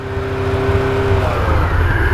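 Honda CB750 Nighthawk carburetor engine revving with the choke open, a loud close steady rumble with a tonal whine that fades partway through.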